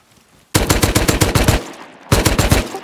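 Rapid automatic gunfire in a video game: two loud bursts of closely spaced shots, the first about a second and a half long, then a short pause before a second burst, with no voices.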